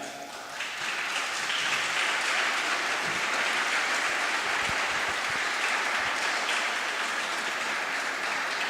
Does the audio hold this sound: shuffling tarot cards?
no